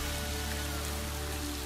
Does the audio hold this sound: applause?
no